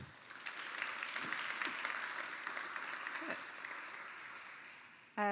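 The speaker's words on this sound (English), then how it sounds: "give her a very big round of applause" Applause from the audience at a PyData Amsterdam conference talk, a fairly faint, steady clapping from a modest crowd that tapers off near the end.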